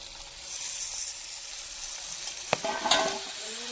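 A steady, close sizzle of tomatoes frying in a pan for a catfish curry, with a couple of sharp spatula clacks near the end as it is stirred.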